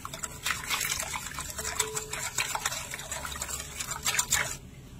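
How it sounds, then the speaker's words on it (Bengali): Mango pulp and powdered milk get whisked together in a bowl, producing a busy, continuous wet sloshing and clinking of the whisk that stops abruptly near the end, with no one speaking. "এবারে সবকিছু হুইস্ক দিয়ে ভালো করে মিশিয়ে নেব।"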